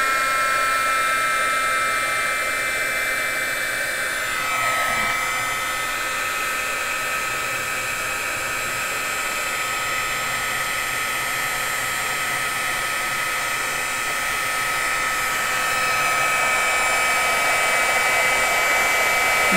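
A heat tool blows hot air to melt Seth Apter embossing powder, a loud steady hair-dryer-like whoosh and whine running unbroken and close throughout.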